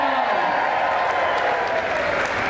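An audience applauds loudly and steadily after a comedy magic routine in a diner setting, a dense continuous wash of clapping with crowd murmur throughout.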